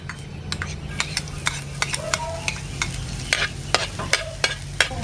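Garlic sizzles in a hot pan at the start of a beef and beans dish, a steady frying crackle under repeated clinks and scrapes of a spoon stirring against the pan.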